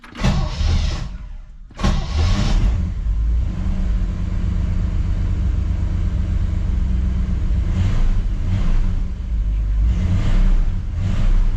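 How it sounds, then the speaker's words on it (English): A 1959 Chevrolet Bel Air with a 348 V8 runs with a steady, loud rumble after a brief cut near the start, its engine held in neutral with a fresh V-belt, no squeal present. "Doesn't squeal when I hit the accelerator now"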